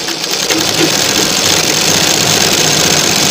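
A sewing machine runs steadily, stitching a sleeve frill, its close motor whir and rapid needle rattle continuous and loud throughout.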